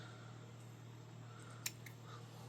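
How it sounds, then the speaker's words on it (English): Scissors cut off leftover string while making specimen tags, giving one faint, quick snip over a steady low hum in a quiet room. "So I'm gonna cut off the extra string."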